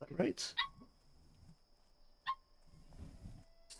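A pet dog barks a few short, sharp times close by, interrupting someone talking casually over quiet background sound.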